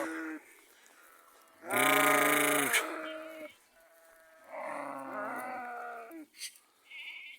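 Lambs bleat loudly and close by on a farm, with a long wavering cry, a short pause, then a second extended bleat and a brief squeak at the end.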